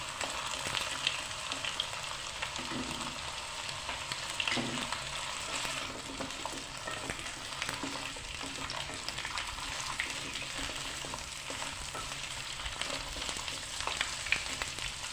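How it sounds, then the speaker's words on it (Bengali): Potatoes fry in hot oil, salted, for a Bengali matar aloor dum, giving a dense, even crackling sizzle that stays steady throughout, close and with no voices. "এবার আলুগুলো তেলের উপরে ছেড়ে দিলাম, দিয়ে আলুগুলো খুব ভালো করে ভেজে নেব।"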